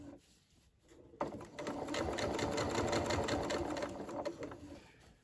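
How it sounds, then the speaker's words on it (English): Understitching a dress seam on a sewing machine: after a pause, a close, fast, steady mechanical chatter of stitching runs for about four seconds before slowing. "I'm just going to follow that ledge as I stitch."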